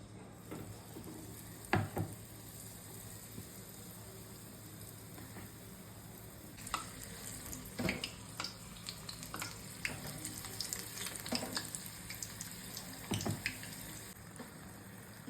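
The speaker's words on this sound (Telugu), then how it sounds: "ఇలా గోల్డెన్ బ్రౌన్ వచ్చే వరకు బాగా ఫ్రై చేసుకొని తీసుకోవడమే." Chilli bajji, battered green chillies, frying in hot oil, with a steady close sizzle and a few scattered sharp clinks and pops throughout, no voices.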